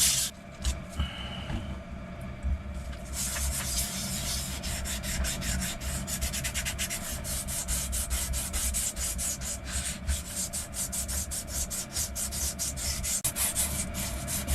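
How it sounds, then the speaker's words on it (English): Wet and dry sandpaper rubs down a fossil shell to smooth out ridges and bumps, making a steady, continuous close scraping and rubbing with quick repeated strokes throughout. "I'll bring you back when I've got this rubbed down with the wet and dry"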